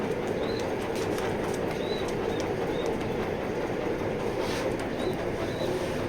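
A young male racing pigeon in a loft gives several soft, brief coos, spaced irregularly over a constant noisy background.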